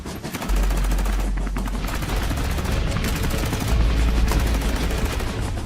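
Rapid bursts of cartoonish gunfire crackle continuously, loud machine-gun rattles layered over booming low thuds.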